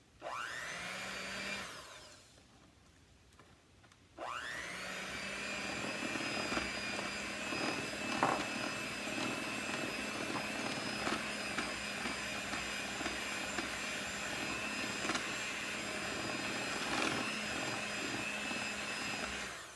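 An electric mixer whips chocolate chip cookie dough ingredients together, starting briefly, stopping for a couple of seconds, then running in a loud, steady, whirring drone for the rest of the clip with no talk.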